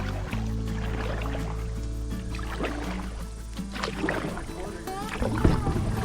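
A kayak scrapes and knocks against boulders while running a rocky stretch of Sugar Creek, with steady rushing water underneath and a sharper thump near the end, along with a voice speaking over it.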